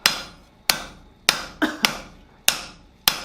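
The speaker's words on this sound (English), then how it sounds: "Start hammering on it." Hammer blows on hot steel during blacksmith forging, with scale breaking off the piece: about seven sharp, ringing strikes, close and loud, in an uneven rhythm with brief decays between them.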